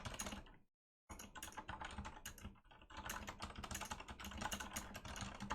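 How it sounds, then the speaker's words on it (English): A computer keyboard clacks in quick, dense bursts of keystrokes close to the mic, broken by a short silent pause and running without any talk. "Now clack your keyboard."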